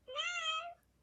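A Teksta Purro interactive robot kitten toy gives a single short, bright, electronic meow, close and clear, alone with no talk.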